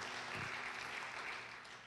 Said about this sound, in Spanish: Denle un aplauso al Señor si usted es una persona obediente.